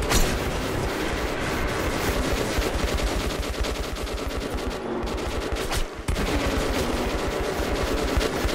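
Allied squad fires guns in Metro 2033 Redux, a dense, continuous barrage of rapid automatic gunfire that rattles on without a break, loud and close, with one brief dip near the end before the shooting resumes.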